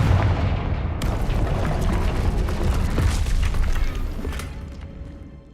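Confringo blasting spell from Hogwarts Legacy detonating in a broad, roaring explosion that starts abruptly and rumbles loudly for several seconds before tapering off, with no talking.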